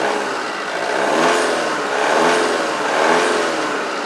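Tata Safari SUV engine revving, rising and falling in a few smooth swells over a steady diesel drone, loud and close with no talking.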